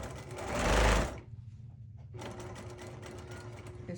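A sewing machine basting the layers of a baby star quilt runs in a loud burst, stops briefly, then starts again with a steady, quieter hum.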